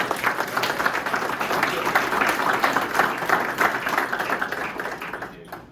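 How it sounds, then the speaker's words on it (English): An audience claps for Structure Tone at an awards evening, a warm round of applause with distinct individual claps, steady and moderately loud before tapering off at the end. "Can we give Structure Tone one more round of applause for this amazing event?"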